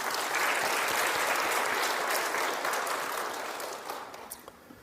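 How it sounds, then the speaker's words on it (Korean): Applause from a church congregation, a broad wash of clapping that holds steady and then gradually thins and fades toward the end, moderately distant and alone. "감사하는 마음으로 박수 한번 보냅시다"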